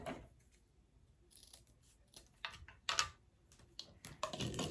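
Scissors snip through craft ribbon for a rustic Dollar Tree bunny wreath, a few quiet, irregular cuts with faint rustling of the ribbon at close range.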